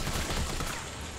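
A rapid burst of video game gunfire from Resident Evil 3 Remake rattles loudly and densely for about a second, crackling and clipped.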